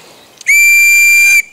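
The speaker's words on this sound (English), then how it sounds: "You blow the whistle more." A whistle gives one loud, piercing, sustained blast of about a second, close by, with a faint breathy lead-in just before it and near-silence on either side.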